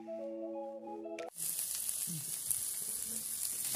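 Bacon and linguiça sausage fry in a pan for feijão tropeiro. After a brief tonal sound at the start, a soft, steady sizzling hiss follows, quiet and continuous with no talk.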